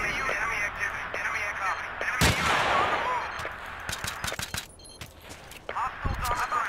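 Gunfire in the video game Battlefield 2, multiplayer on the Daqing Oilfields map: a sharp loud shot burst near the start, then several quicker cracks, over steady game ambience and a talking player.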